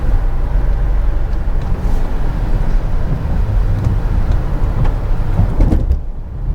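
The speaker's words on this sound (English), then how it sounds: "let's check out the XC60 PHEV's handling anyway on a quite wet road" A 2025 Volvo XC60 plug-in hybrid drives on a really wet road, with steady loud road and tire rumble and hiss from inside the cabin, wind noise throughout, easing slightly near the end.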